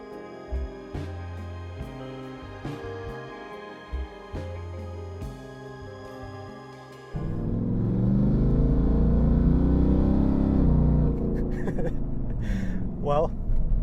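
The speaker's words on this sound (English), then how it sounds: "this clearly is not an ordinary Raptor because we do have an exhaust system fitted to this truck" A Ford F-150 Raptor R truck with an aftermarket exhaust, first heard at a steady idle with rhythmic low pulses, then a loud, sustained deep engine roar as it accelerates, with a faint voice at the start.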